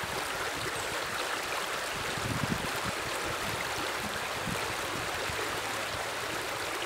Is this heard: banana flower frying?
no